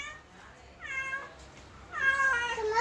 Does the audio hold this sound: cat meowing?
yes